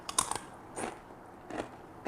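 Crunchy pizza-flavored nachos are bitten and crunched up close. Several sharp, crackling crunches come in short separate bursts with quiet gaps between them.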